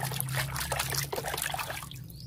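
Animal toys being washed in water, with steady splashing, trickling and sloshing up close, close by and fairly loud.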